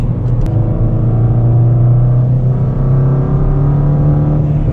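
A Ford Fiesta ST200 engine revs loudly and close, a deep throaty drone holding high and steady with a slight rise and fall.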